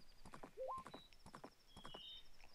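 Horse hooves clip-clop at a gallop in the Zelda game Majora's Mask, a quick steady beat mixed with short game chimes and a brief rising whinny-like tone.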